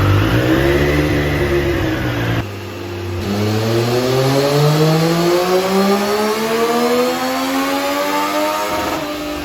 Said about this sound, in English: The first exhaust that we're going to be putting on the dyno is obviously the stock exhaust.